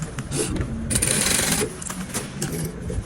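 A sewing machine stitching elastic onto a summer dress, a close mechanical whirring run with clicking, rising in the middle then easing, without speech.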